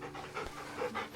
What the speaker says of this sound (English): Love the dog.